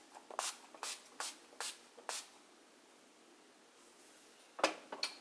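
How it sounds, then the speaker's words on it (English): Short sprays of an Urban Decay oil control makeup setting spray: five quick, close hissing pumps in even rhythm, a pause, then a couple more bursts. "at this point I usually take a setting spray. This is by Urban Decay."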